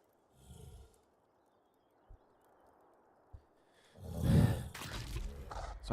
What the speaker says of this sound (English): if you hear me breathing, it's just because I'm manual breathing because I have asthma